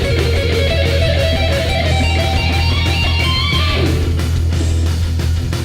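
Diminished shred lick on guitar, a loud, dense run of fast notes with heavy distorted sustain over a steady low hum, playing continuously without any voice.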